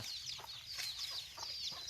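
Chickens cluck and squawk in repeated short bursts on a cattle farm, close by and moderately loud, over a faint steady rural background with no speech.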